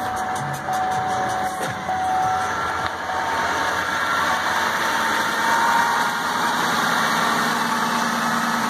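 A Buick Lucerne with a Northstar V8 and 83,000 miles, being jump-started cold with a weak battery, settles into a steady idle, a continuous close engine drone with faint mechanical ticking and no talking.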